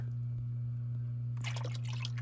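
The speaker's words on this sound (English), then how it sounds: "You can see as I pour it, it's pretty gross." Milky, dirty condensate water from a boiler tank is poured out. A low electrical hum runs steadily until a short burst of splashing liquid cuts in near the end.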